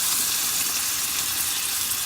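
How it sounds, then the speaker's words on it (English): Sauce poured over meat in a hot pan boils and sizzles loudly and steadily, a dense continuous hiss with no speech. "Oops, it's boiling because it's still pretty hot."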